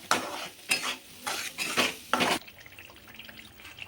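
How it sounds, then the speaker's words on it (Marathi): Red chili masala fries in oil for an egg curry, with five rhythmic bursts of loud spatula scraping and sizzling, then a quieter steady frying crackle as the stirring stops. "मी सगळा मसाला टाकलेला आहे तेलामध्ये आता छान असा फ्राय करून घेऊया"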